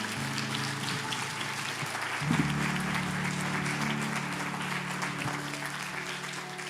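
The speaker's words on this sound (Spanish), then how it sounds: "¿Cuántos le dan un aplauso a Jesús?" A church congregation applauds during a Spanish-language service, steady dense clapping throughout with a low sustained tone, likely an organ or keyboard, underneath.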